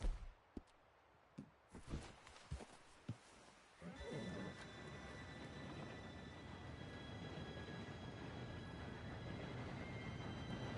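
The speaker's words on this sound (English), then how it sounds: "Train should be here any minute now." Approaching train in the video game Red Dead Redemption 2: after scattered thuds and horse sounds, a steady rumbling roar builds and holds, with a faint whistle-like tone above it, continuous and fairly loud.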